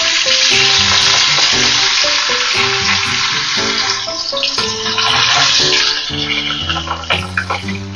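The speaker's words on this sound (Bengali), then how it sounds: "এবার প্রথমে আমি মাছগুলোকে ভেজে নেব।" Katla fish pieces fry in three tablespoons of hot mustard oil in a kadai, giving a loud, continuous crackling sizzle with background music playing over it.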